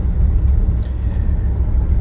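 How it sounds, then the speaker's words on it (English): An old Chevy C10 pickup truck rolls along the road, its engine a steady, loud low rumble holding constant from start to finish with no talk. "I like driving this old truck."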